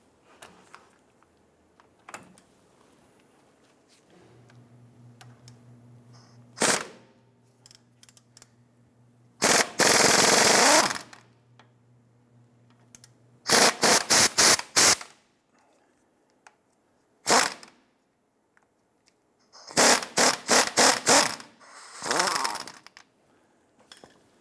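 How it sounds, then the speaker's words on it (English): Bursts from a power tool with an 18mm socket loosening a nut during a leveling kit replacement on a 1997-2006 Jeep Wrangler: several loud rattling bursts of varied length separated by quiet gaps, with a steady low hum in the background. "Use an 18mm socket to loosen the nut here"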